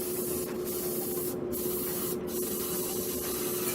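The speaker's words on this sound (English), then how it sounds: "just to get a feel of how your airbrush reacts, how sensitive that trigger is" Airbrush spraying paint for a mecha model, a steady close hiss with several brief dips as the trigger is eased back and pulled again.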